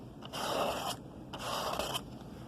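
A half-blade palette knife drags paint across a canvas in two slow, even scraping strokes, close and soft with a gritty rasp and a short pause between them.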